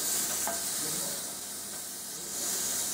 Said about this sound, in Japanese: まず隅っこで長ネギを焼くと、人参も適当に置いておくと